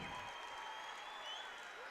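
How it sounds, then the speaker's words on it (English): A high school basketball crowd at a 2012 MSHSAA Class 5 boys semifinal, Marquette vs Nixa, cheers and applauds for a Nixa Eagles player, sounding as a steady wash of distant, faint clapping and crowd noise. "getting a cheer for the Nixa Eagles"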